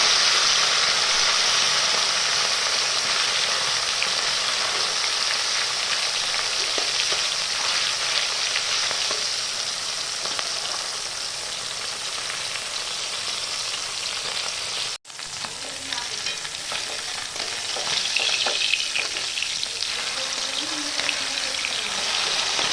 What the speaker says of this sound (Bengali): এরকম মাছগুলো আমি উল্টিয়ে দিলাম, এবার ভেজে তুলে দেবো।